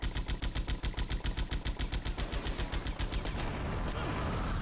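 Rapid .50 caliber gunfire in GTA Vice City, a loud, steady stream of close shots that gives way to a sustained, dense roar near the end.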